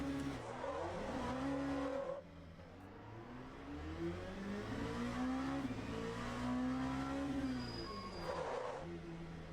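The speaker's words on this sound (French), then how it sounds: "C'est le blocage des roues." An LMP2 race car in the Le Mans Ultimate racing game locks its wheels under braking. A continuous engine drone sweeps up and down in pitch, with tire squeal rising under heavy braking.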